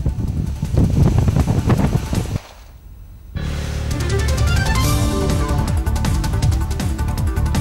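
Strong storm winds roar and buffet against the microphone with rough, continuous rushing noise that drops away briefly before surging back, loud and close.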